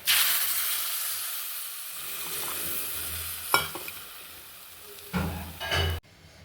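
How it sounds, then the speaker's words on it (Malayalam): Water poured into a hot pan of fried coriander, chilli and turmeric powders for a dried stingray fish curry sets off a loud hissing sizzle that fades, then flares again with short bursts before cutting off abruptly. "ഇനി നമുക്കിതിലേക്ക് വെള്ളം ഒഴിക്കാം."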